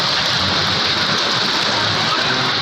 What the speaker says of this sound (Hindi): सक्कर और गिरदनवाह में गरज चमक के साथ तेज बारिश हुई।